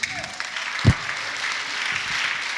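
Applause from a church congregation praising Jesus, a sustained wash of many hands clapping that swells briefly then carries on steadily through the rest of the stretch.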